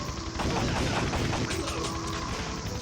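Dense, rapid gunfire from the arcade shooter Time Crisis, a continuous crackling barrage of shots throughout the short stretch.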